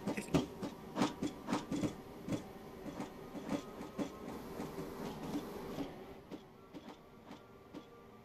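Class 442 electric multiple unit running in the Grand Continental Railways game, a steady rolling rumble with rhythmic clicking and clattering beats, fairly close, softening toward the end.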